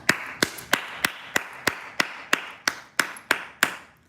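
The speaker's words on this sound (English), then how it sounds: "Everybody give Lynn a round of applause." Hand claps ring out in a steady, even rhythm, about a dozen sharp, close slaps spaced roughly a third of a second apart, with no voices over them.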